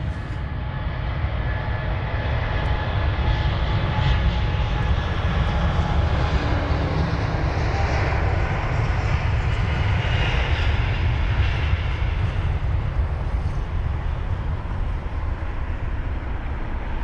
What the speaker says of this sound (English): You've got the Virgin 7879 Dreamliner, registered as Golf Victor Oscar Oscar Hotel, off to San Francisco